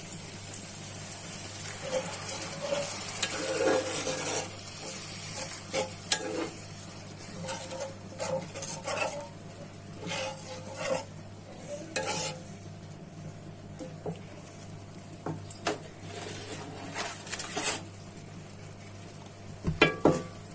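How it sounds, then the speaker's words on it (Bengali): Bengali masala paste for a pangas fish dopiaza, fried until well cooked with a little broth added, bubbles and sizzles quietly while a utensil stirs and scrapes in intermittent bursts, with no voices heard. "মশলাটা ভালো মতো কষানো হয়ে গেছে, হালকা একটু ঝোল দিয়ে দিচ্ছি।"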